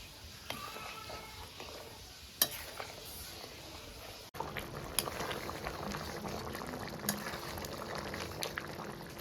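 Water boiling in a pan while cooking potato paneer curry with capsicum, a steady bubbling simmer with a few sharp clinks and knocks near the start.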